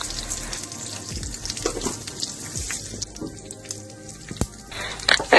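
Cumin and mustard seeds sizzle and crackle steadily in hot oil for a semolina balls breakfast recipe, a continuous close frying hiss with scattered pops, brief clatters and a sharper burst near the end.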